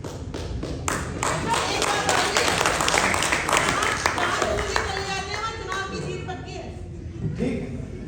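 A crowd at an excellence awards ceremony bursts into sustained, thick clapping with a few sharp thuds, which gradually thins out into chuckles and talking voices near the end.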